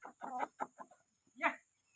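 A rooster on a farm clucks close by: a quick run of short, throaty clucks followed by a pause and one louder, drawn-out call, with no voices.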